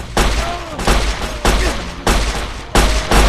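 Rapid bursts of gunfire from an enemy wave in the Blade and Sorcery VR game, loud sharp volleys repeating about every half second in clustered salvos, close and dominant.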